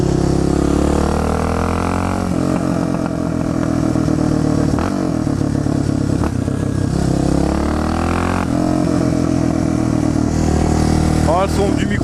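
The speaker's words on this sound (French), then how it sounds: "Donc c'est une moto fun." A Suzuki DR 650 supermoto motorcycle rides along and accelerates, its single-cylinder engine droning loud and steady, with rising revs and shifts throughout and a rider talking over it.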